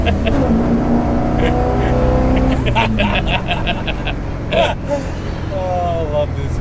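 A Holden HQ with a 253 V8 converted to Holley Sniper EFI, its engine droning and revving steadily throughout, loud and close, with people talking and exclaiming over it.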